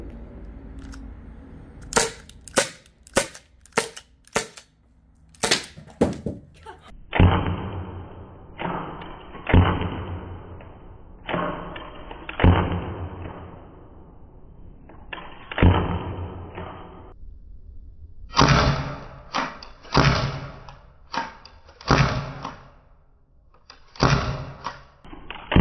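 A Byrna SD launcher, powered by a 12-gram CO2 cartridge, fires nylon plastic rounds in a long series of sharp, loud pops, some in quick clusters and others spaced out, with short gaps between the groups.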